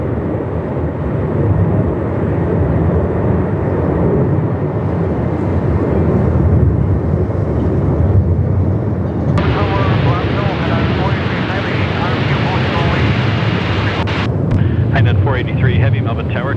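Strong gusting wind of about 35 knots at Melbourne Airport, a loud, continuous roaring buffet across the microphone with broadband rumble throughout, mixed with what sounds like aircraft noise and a voice talking over it.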